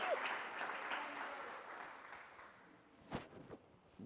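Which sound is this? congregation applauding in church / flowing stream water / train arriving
congregation applauding in church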